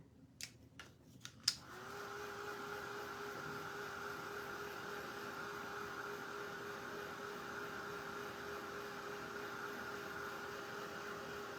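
A few sharp clicks, then a hair dryer switches on and blows a steady, even whoosh with a faint whine for the rest of the time while drying a wig, fairly quiet and with no voices.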